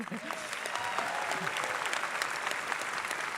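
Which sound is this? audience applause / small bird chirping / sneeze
audience applause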